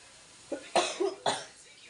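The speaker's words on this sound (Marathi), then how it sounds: "खोकला चाला जास्त" A few quick dry coughs in a row, close by, with short pauses between them.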